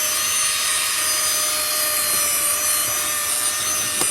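A cordless handheld car vacuum cleaner runs steadily up close, its high whining motor drone continuous as it sucks sand out of a rug, with a few faint rattles of grit.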